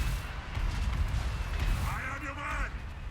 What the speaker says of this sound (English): here comes all that artillery fire